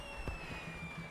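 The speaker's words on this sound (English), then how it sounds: "falling fireworks converge into a galaxy behind him" Fireworks in a video game night scene: one soft, muffled burst early on, then a faint rumbling tail beneath steady sustained music tones.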